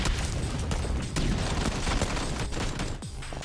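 Dense, overlapping gunfire fills a PUBG Mobile firefight, with rapid bursts and volleys of shots running continuously and loudly throughout, barely a gap between them.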